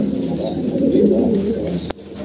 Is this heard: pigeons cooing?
yes